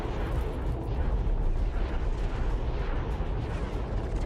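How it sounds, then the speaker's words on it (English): Medium proton torpedoes pound a patrol dreadnought in the space game X4: Star Wars Interworlds, a continuous loud, rumbling barrage of blasts and booms with no clear gaps. "Bombers are striking the patrol dreadnought. They're getting hit with medium proton torpedoes."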